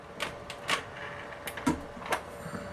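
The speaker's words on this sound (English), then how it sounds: "let's go ahead for some mixer action" A Maxx electric stand mixer with a whisk attachment beats vanilla cake batter, a steady motor whir punctuated by brief rattling bursts as the whisk hits the bowl, close and moderately loud.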